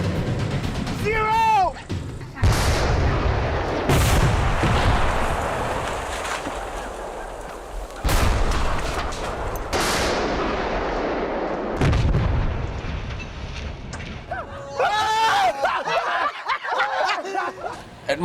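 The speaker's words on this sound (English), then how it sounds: "10 meters away from the house, Jarppi just blows the shit out of it" A house blows up in a series of heavy, booming blasts with long rumbling decays, several loud explosions spaced across the stretch, while people nearby laugh and talk between them.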